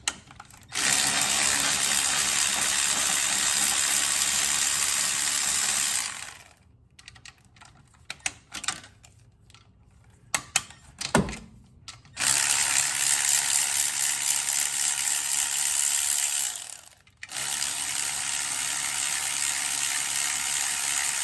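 A ratchet-style power tool works on alternator bolts on a 2.0T TFSI Audi engine, giving long steady whirring bursts broken by a quieter stretch of scattered clicks and rattles, with no talking.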